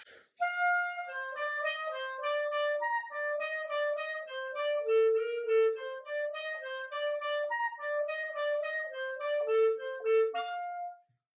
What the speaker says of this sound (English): So playing without the G, the melody will sound something like this.